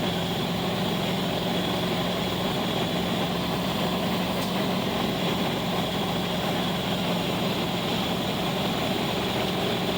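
A car engine drones at steady loudness under boost, a dense continuous roar that stays constant for the whole stretch with no speech and no clear rise or shift.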